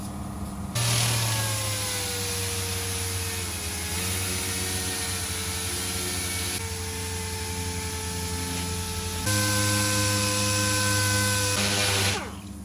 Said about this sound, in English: So with the first pass on the dual action sander